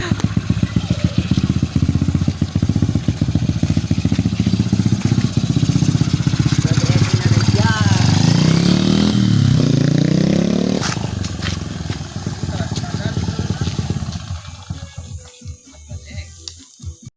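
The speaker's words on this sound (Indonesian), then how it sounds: "Knalpot ninja, nyobaan lah." A home-built motorcycle with a Honda engine and a Ninja exhaust revs loudly and continuously at close range, with clattering mechanical noise, before the engine fades and settles toward the end.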